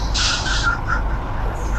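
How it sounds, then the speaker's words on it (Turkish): A truck's parking brake releases in Truckers of Europe 3, a sharp pneumatic hiss of air lasting about half a second, followed by a softer second puff over a steady engine rumble. "Park fren çekili indirdik."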